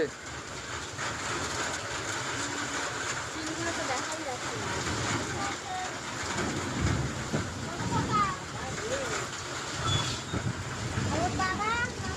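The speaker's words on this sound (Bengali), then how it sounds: "আর এখানে বিভৎস ঝড় বৃষ্টি।" A violent nor'wester storm with heavy rain roars under a tin shelter as a dense, continuous broadband wash with gusty surges, with a voice talking over it now and then.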